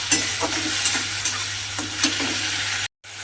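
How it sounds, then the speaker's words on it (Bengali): Onion paste frying in a pan, a steady sizzle with soft scraping stirs repeating every half second or so, close and moderately loud, ending in a brief silent gap. "দিয়ে পেঁয়াজ বাটাটা একটু ভাজা ভাজা মতো করে নেব"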